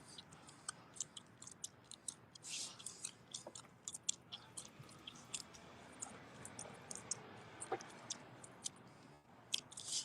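A man chews gum close to the mic, producing quiet, wet smacking and clicking in an irregular, continuous rhythm with no talking.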